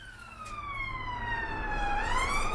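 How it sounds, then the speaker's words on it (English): Police sirens wailing in a Manchester street, a rising and falling electronic tone heard at moderate distance over low city rumble, with no one speaking. "Sirens."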